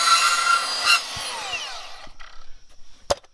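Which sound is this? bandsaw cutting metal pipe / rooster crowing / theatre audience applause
bandsaw cutting metal pipe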